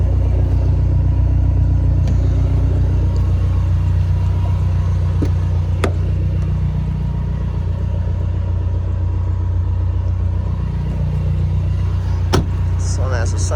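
A 2005 Dodge Neon SRT-4 turbo engine idling after a cold start and running a little rich, a steady, loud, close low rumble that continues throughout with a few faint clicks on top.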